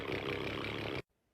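A person's voice imitates a 12-valve Cummins diesel engine: a single raspy, rumbling burst of about one second that cuts off abruptly into silence.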